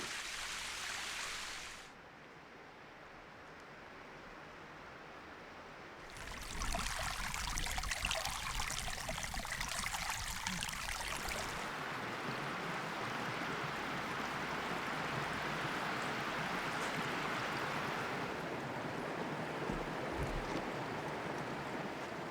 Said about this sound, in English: the springs water coming from underground at 65 degrees centigrade